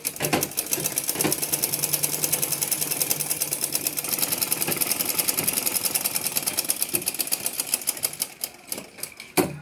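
A sewing machine stitches a bag in a fast, steady mechanical run of needle clatter, loud and close. It keeps up a continuous rhythm for almost the whole stretch before slowing and stopping near the end.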